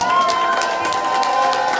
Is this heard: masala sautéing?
no